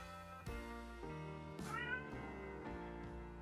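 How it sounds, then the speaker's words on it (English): Several talkative house cats meow in a run of close, loud calls, one after another with short gaps, some drawn out and rising, with no speech. "I have very, very talkative cats."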